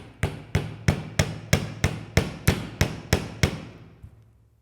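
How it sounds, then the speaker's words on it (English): A hammer strikes wire while shaping jewellery, about a dozen sharp, evenly spaced metallic taps close up, each ringing briefly, the final blows fainter. "So only hammer where they're not on top of each other."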